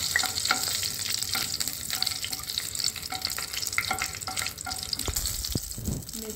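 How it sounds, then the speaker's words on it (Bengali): Bay leaves, cardamom and cinnamon fry in hot white oil for Bengali basanti pulao, making a dense, continuous sizzle and crackle that stays fairly loud and even throughout. "তেল গরম হয়ে গেছে, এর মধ্যে আমি তেজপাতা, এলাচ, দারচিনি দিয়ে দিলাম।"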